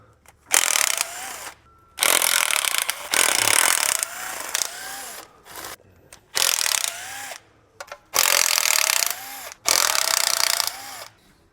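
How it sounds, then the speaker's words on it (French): A small impact driver backs out the oil pan screws on a car engine, firing six loud, close hammering bursts of one to two seconds each, separated by brief pauses. "Je vais utiliser ma petite visseuse à choc."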